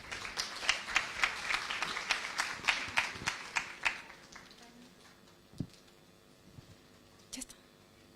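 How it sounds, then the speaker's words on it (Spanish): Attendees at a nutritionists' and dietitians' scientific congress clap briefly, a few seconds of quiet, fairly sparse applause that quickly thins out to scattered claps and room noise. "Un aplauso para cada uno de ustedes"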